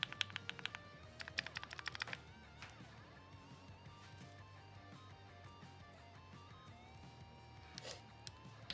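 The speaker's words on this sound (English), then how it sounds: "Now you can hear the keys." Typing on a GMMK Pro mechanical keyboard without O-rings, close and fairly quiet: quick bursts of sharp key clacks at the start and near the end, with softer, sparser keystrokes in between.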